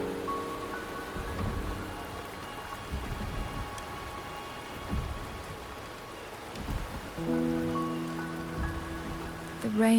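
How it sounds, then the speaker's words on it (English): Steady rain falls in a stormy outdoor scene in the video game Wuthering Waves, a continuous hiss of drops on surfaces under sustained musical tones, with occasional low rumbles like distant thunder. "The rain is subsiding, and the sky will soon clear."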